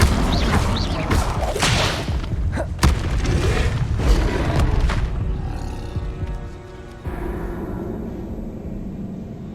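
Incendio fire spell cast in a Harry Potter video game: loud, roaring whooshes and booming bursts crowd the first five seconds, then ease into a quieter, steadier rumble of game ambience.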